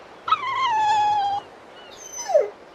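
Dogs in the Tales of Berseria video game give a long drawn-out whine followed by a short falling yelp, both clear and close against a quiet background.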